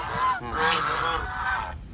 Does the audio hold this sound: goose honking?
yes